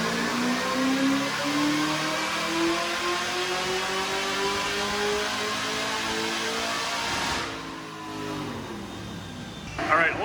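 Race car engine revving during a run, a loud rising and falling engine drone with shifting pitch that drops away near the end, close and continuous.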